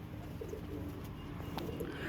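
Pigeons on a rooftop loft give soft, low coos over a steady background rumble, faint and without talk.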